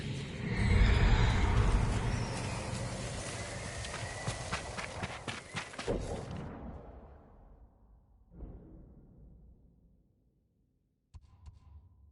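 A horse in a video game whinnies loudly alongside thudding hoofbeats of a gallop, then the hooves fade and slow before a short silence and a faint final sound.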